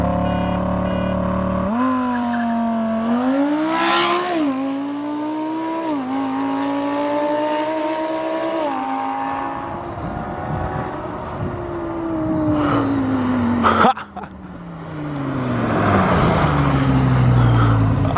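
A Lamborghini Huracan drag races a Ford Lightning electric pickup. A loud engine roar climbs in pitch through several stepped gear shifts, then fades into a long whooshing pass and a final noisy burst.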